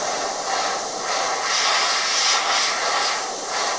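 An airbrush sprays paint in a steady, close hiss with gentle swells in strength, angled to keep overspray inside a camouflage pattern, with no talking.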